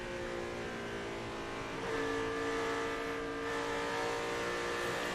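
A NASCAR Cup race car engine at the 2006 Kansas race drones steadily, then the pitch steps up as the driver gets on the throttle and holds, a sustained engine whine at moderate distance.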